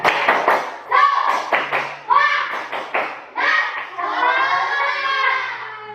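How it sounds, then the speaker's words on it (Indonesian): Schoolchildren in a sixth-grade class stand and do a rhythmic spirit clap, patterned bursts of hand claps mixed with their chanting voices close by. "Tepuk semangat."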